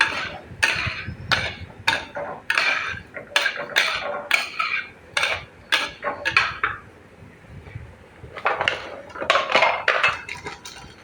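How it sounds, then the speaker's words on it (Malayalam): Cherry pickle being stirred with asafoetida, a rapid series of loud close spoon clinks and scrapes against a metal vessel, bunched in bursts with a short pause midway, no speech. "കായം ചേർത്ത് നമുക്ക് നന്നായിട്ട് ഇളക്കിയെടുക്കാം"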